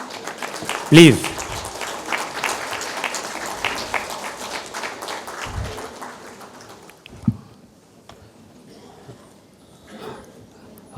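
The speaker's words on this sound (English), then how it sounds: "Let's give him a standing ovation, a big ovation to him." A conference audience at a hospitality HR summit applauds the keynote speaker in a standing ovation: dense, broadband clapping that swells early, then thins out and fades over several seconds while a speaker talks over it.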